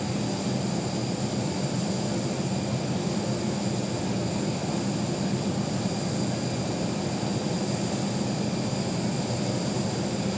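An American Airlines jet lands at Phoenix Sky Harbor Airport, its engines a steady, continuous roar that holds even and fairly distant for the whole stretch, with no talking.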